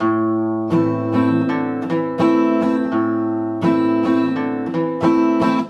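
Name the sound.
guitar riff played without hammer-on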